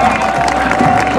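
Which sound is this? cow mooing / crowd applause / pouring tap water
crowd applause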